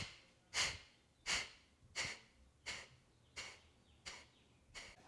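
Eight sharp nasal sniffs pushed out in a steady, evenly spaced rhythm during yoga breathing practice, each a brief close burst of air with quiet pauses between and no talking.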